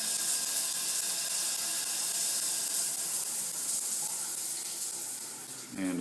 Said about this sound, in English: I'm going to go ahead again and